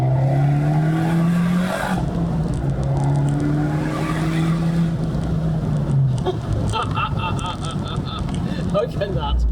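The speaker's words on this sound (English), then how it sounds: "You've just heard the engine note, the Monza exhaust." Abarth 124 Spider with Monza exhaust, engine note rising and falling through a downshift while driving, loud with wind noise, tire noise and someone talking over it.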